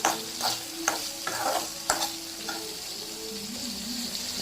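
Salted vegetables sautéing in a pan for curry leaf chutney, a continuous close sizzle with periodic spoon stirs and scrapes, no voices.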